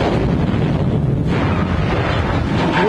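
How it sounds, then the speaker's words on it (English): A dramatized bomb blast gives off a dense, continuous rumbling roar, loud and close, that swells with a slight surge near the end and carries no speech. "She'll get caught in the blast of Cartwright's bomb"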